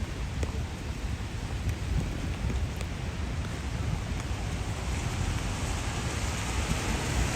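Steady rain falling on Broadway, a Los Angeles street, making a dense, even hiss with a low rumble underneath and occasional faint drips, continuous throughout and without speech.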